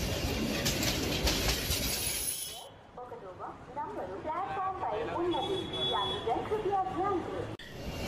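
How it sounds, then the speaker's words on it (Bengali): Animated train pulling into a station platform in a Bengali horror cartoon: a loud broadband rumble of rail cars that cuts off abruptly, followed by voices and background chatter under the station ambience. "প্ল্যাটফর্মে একটু অপেক্ষা করতেই ট্রেন চলে আসলো।"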